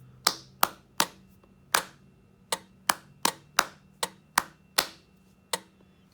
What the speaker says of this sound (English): I'm going to have you clap that rather than say it